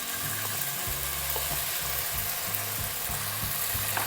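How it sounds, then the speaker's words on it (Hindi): Boneless chicken frying in half a cup of oil with a steady, dense sizzle and a few low knocks from the pan, close and even throughout, with no voices. "सबसे पहले इसमें हम जो है चिकन डालेंगे बोनलेस"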